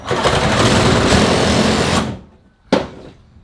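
A Ryobi battery-powered tool whirs steadily at close range for about two seconds, then winds down to quiet. A short second burst follows, with no talking.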